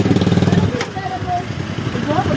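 A motorcycle engine idles close by with a steady throbbing putter that fades after a moment, while people talk nearby.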